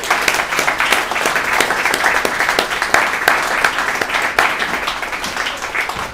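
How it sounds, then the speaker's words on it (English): Lively audience clapping welcoming a speaker onstage at a talk event, with individual claps audible in a fairly close, continuous burst that stays strong for several seconds. "As you clap him in, please welcome him aboard."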